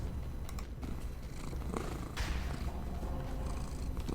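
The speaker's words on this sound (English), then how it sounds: "That purring got me through, like, 2009 to present day" A cat purring close by in a steady low rumble that carries on without a break, with no talk over it.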